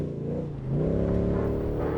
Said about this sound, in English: His beefy Nissan Patrol is powered by a 6-litre V8.